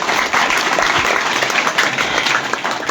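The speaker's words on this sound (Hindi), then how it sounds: "इसलिए इनके लिए भी एक बार जोरदार तालियां बजाएं।" A village audience bursts into strong applause, a loud, close, continuous patter of many hands clapping at once that stays full and even from start to finish.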